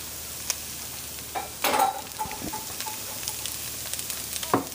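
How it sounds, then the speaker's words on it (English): Onions and garlic sizzle softly in a cast iron Dutch oven, a low constant frying hiss broken by a few scraping stirs and light clanks, heard close with no talking. "we got our onions and our garlic here in the pan"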